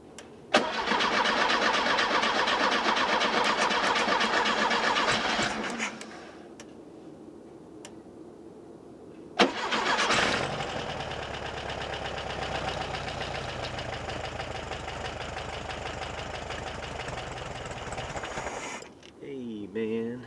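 A 1970 VW Beetle engine, just tuned up with new points and with a choke that fails to kick down, runs loudly up close, drops away, then cranks and restarts into a steady, rough idle that continues to the end.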